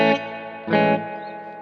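Electric guitar played through a reverb pedal with the dwell turned up, two strummed chords ringing out into echoey, metallic, repeating tails that decay slowly, close and fairly loud with no voices.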